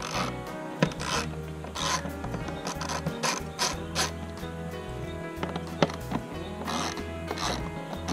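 A T25 Torx driver ratchets out metal screws from plastic bosses on a Harley saddlebag lid, giving repeated close clicking ratchet sweeps in short strokes, with faint scraping and an occasional sharp tap.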